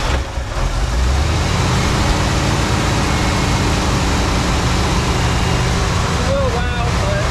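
A Ford engine fitted with a Mallory Hyfire 695 ignition box runs loud and close, with a continuous, dense rumble that holds steady throughout.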